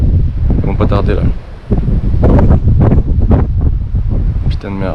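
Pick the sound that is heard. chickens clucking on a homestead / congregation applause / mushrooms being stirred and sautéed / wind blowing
wind blowing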